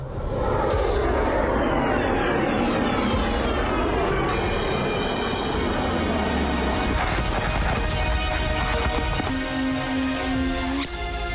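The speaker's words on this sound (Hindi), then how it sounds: "ये मिसाइलें यूक्रेनी इलाकों के ऊपर से गुजरी तो लोग दहशत में आ गए। मिसाइलों के शोर से लोग सहम गए।" Cruise missiles pass over Ukrainian territory with a loud, continuous roar. The roar's pitch sweeps downward early on and then holds as a dense, unbroken rushing drone with no voices.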